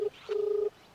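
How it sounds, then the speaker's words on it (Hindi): A telephone being dialed to place a call, heard as two clear steady keypad tones, a short beep then a longer one, close and alone with no talking. "फोन लगा के इनका ही बुलाऊ"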